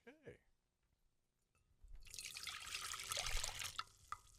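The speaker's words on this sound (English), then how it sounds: "Oh, we pour it so well. It sounds the same every time." Tea is poured from a pot into a cup, a steady close trickle and splash rising for a couple of seconds after a brief spoken word at the start.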